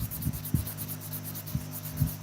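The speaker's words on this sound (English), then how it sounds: "Check your progress as you're sanding, which is what I'm doing, exactly what I'm doing." Hand sanding a pounamu greenstone teardrop on sandpaper gives close, soft rubbing strokes in an uneven rhythm, with about four distinct scrapes over a couple of seconds.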